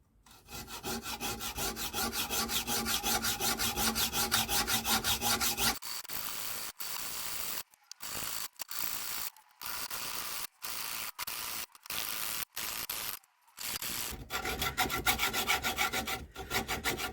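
A hacksaw cutting off the steel stem of a motorcycle fork, a steady rasping back-and-forth stroke that then continues in choppy bursts broken by short silent gaps, close and loud.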